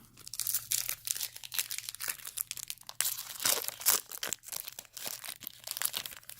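A foil wrapper on a 2006 Topps baseball card pack crinkles and tears in repeated sharp bursts, close up and fairly loud, as fingers work at a stubborn corner.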